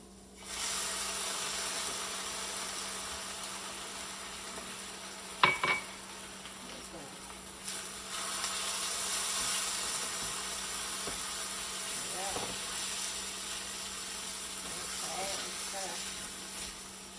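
Food sizzles steadily in a pan with onions, a continuous close hiss broken by a few clatters and knocks of utensils against the pan.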